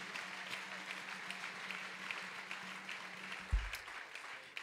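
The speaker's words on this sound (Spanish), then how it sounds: "den ese aplauso fuerte" A church congregation at a Pentecostal service gives a steady round of applause that continues throughout, somewhat distant and diffuse, with a low hum beneath and a thump near the end.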